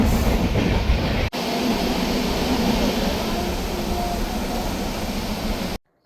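A passenger train rumbles along with a steady, heavy roar from inside the carriage, then cuts off abruptly at the end.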